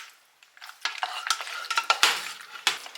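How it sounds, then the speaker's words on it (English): A spoon stirs queso into a single serving of mac and cheese, making close, wet, squelching scrapes in an irregular rhythm against the dish, with brief metallic clinks. There is no talking. "Now you're going to take that and you're just going to stir it up."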